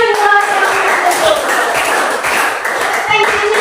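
Classroom clapping at a teacher's practice lesson, a dense patter of many students' hands running throughout, with a voice speaking over the start and end.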